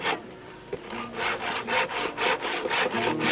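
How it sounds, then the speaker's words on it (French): A hand saw cuts through a wooden plank for a stage platform, its close, rasping back-and-forth strokes repeating in an even rhythm of about eight pulls, with no one speaking. "Toi, tu scies une planche."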